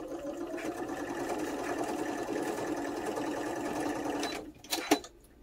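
Sewing machine stitching across layered fabric pieces, including delicate Indian fabric, in one close steady run that stops with a couple of short clicks and handling sounds at the end.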